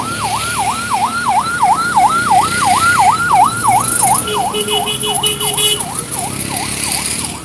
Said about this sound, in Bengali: এই যে অ্যাম্বুলেন্স